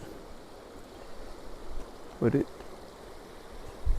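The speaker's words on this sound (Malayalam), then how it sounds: "ഇവിടെ പുഴ ഇത് ഒഴുകുന്നുണ്ട്." A calmly flowing river at Chooralmala, giving a low, steady watery rush in the background while someone briefly speaks over it.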